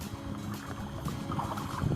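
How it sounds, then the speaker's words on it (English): Kayak paddling on open water during a fishing outing, soft splashes and water movement with steady wind buffeting the microphone throughout, no talking. "Alright, let's start kayaking."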